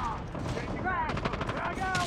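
Rapid video-game gunfire rattles on almost without pause in a multiplayer capture-point shooter, the shots close and loud, with short bursts of voice chat and game callouts mixed in.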